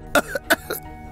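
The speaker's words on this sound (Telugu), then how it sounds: "ఈ దగ్గు మళ్ళీ ఎలా పట్టుకుందేంటి?" A person coughs several times in quick succession after running, four short harsh bursts close to the listener within about a second, against a quiet background.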